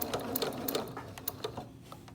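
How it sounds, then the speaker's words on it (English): A sewing machine top-stitches the fabric of a 3-D singer's face mask in quick bursts of rapid needle clatter, close and fairly quiet, with brief pauses between runs. "now that we're back at our machine, we're gonna go ahead and finish up this top stitching."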